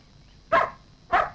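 A dog barks twice, two short sharp barks spaced about half a second apart against a quiet background.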